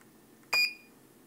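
A single short electronic beep from a touchscreen button press on an SMH 4 controller, crisp and close against a quiet background hum.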